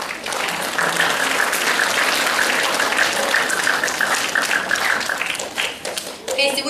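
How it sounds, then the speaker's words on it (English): An orchestra concert audience claps steadily in dense, sustained applause that carries on for several seconds before tapering slightly at the end. "give yourselves a pat on the back and round of applause"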